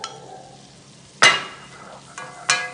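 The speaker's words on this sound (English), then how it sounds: "You want to keep mixing that well, just for like a minute or so." Flour being stirred into melted butter in a pan over a medium-low flame for a sauce, giving a soft sizzle with a few sharp scrapes and clinks of the utensil against the pan.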